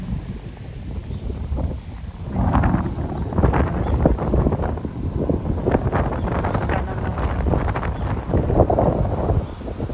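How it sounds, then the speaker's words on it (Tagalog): Strong, very cold gusts buffet the microphone in a park with a roaring, rumbling rush that swells and stays loud throughout, outdoors with no voices. "ang lakas yung hangin. Napakalamig."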